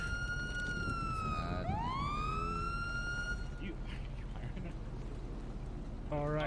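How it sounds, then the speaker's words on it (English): Police siren in an online role-play video game, a wailing tone rising and falling at middling volume over background engine noise, with someone talking over it and a short yelp burst at the end. "I thought it was my siren"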